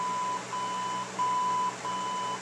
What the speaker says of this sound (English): It's going to beep, and that's going to put you in the fader mode.